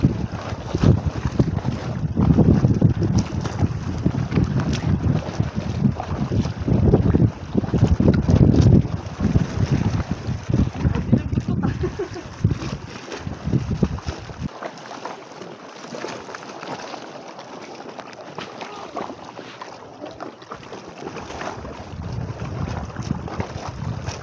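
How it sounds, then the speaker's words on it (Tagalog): Strong wind roars and buffets a microphone out on open water, with a boat's rumble underneath; no one talks. "lakas ng hangin ah"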